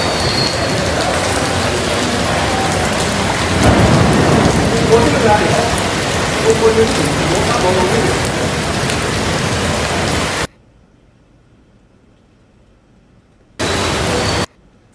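Heavy rain pours down steadily during flash flooding in New York City, a dense, loud roar that cuts off abruptly and returns briefly near the end.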